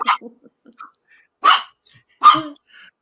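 A dog barks in a few sharp, separate bursts close by, with quiet pauses and a faint growl or huff between them.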